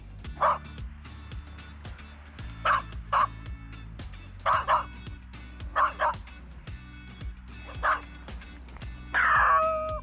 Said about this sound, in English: a frequency of a bark for a warning might be a couple of low barks